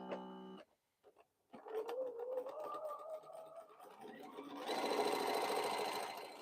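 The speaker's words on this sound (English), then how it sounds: "I'm gonna sew this so I don't have to come back to this." A quilter's sewing machine runs in bursts, stitching border pieces, starting with a brief whir, pausing, then a steady mechanical hum that builds louder and denser toward the end, close by with no talk over it.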